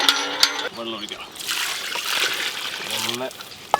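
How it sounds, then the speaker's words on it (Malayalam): Water is poured into a pot of Arabian chicken madhooth holding salt, lemons, capsicum and carrot, a steady close rushing splash of about a second and a half, with a voice talking before and after it. "വെള്ളം ഒഴിക്കണം."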